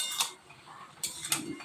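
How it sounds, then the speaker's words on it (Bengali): A spoon stirs drumstick vegetables in a cooking pan, making a few short clinking, scraping strokes against the metal, close and fairly quiet, separated by brief pauses. "এখন আর একটু নেড়ে চেড়ে নিলাম।"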